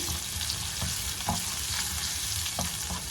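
Onion stir-fried in a pan with hing and curry leaves for snake gourd kootu, a steady close sizzle with a few louder spatters and stirring scrapes, no talking.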